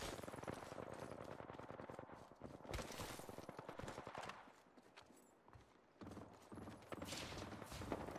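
Rapid video-game gunfire rattles in dense, loud bursts from shooters positioned up high, keeping up nearly nonstop for about eight seconds with a brief lull midway.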